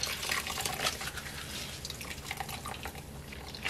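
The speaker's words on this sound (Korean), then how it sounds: "이렇게 깨끗하게 다 헹궜으면은요, 이제 꼭 짜겠습니다" Rinsed perilla leaves squeezed firmly by hand to press out water, giving a soft, continuous wet trickle and dripping close by, fairly quiet with no talking.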